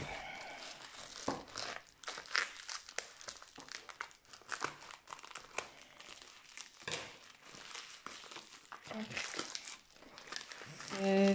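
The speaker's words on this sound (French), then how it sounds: "C'est du papier bulle." Bubble wrap packaging being unwrapped and handled during an unboxing of two canvases and tubes, a dense run of crinkling, crackling plastic rustles, close and fairly loud, with a speaking voice briefly heard near the end.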